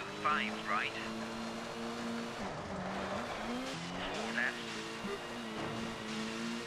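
Ford RS200 rally car in the Colin McRae Rally video game, engine droning and shifting pitch as it drives on gravel at the Acropolis Rally, under a commentator's speech.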